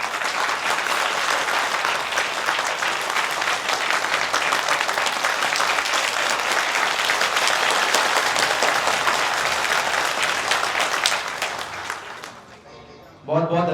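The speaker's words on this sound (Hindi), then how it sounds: "एक बार जोरदार तालियों से।" An audience at a gathering on Gram Geeta and Tukdoji Maharaj claps loudly and steadily for about eleven seconds, the applause fading away before a voice begins speaking at the end.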